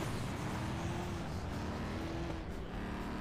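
Car engine in the racing video game FlatOut 2, a steady droning roar that holds at a constant level throughout with a slight pitch rise, no voices.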